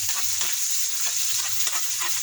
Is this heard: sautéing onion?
yes